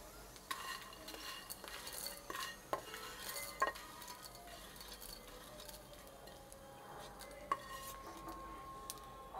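Fried edible gum moved from a pan into another bowl, heard as quiet spoon scrapes, metal clinks and faint sizzling, with scattered light knocks throughout.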